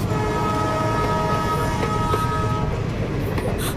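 A train passes close by in a film scene, a loud continuous rumble of wheels and carriages with a sustained droning horn tone over it, no voices.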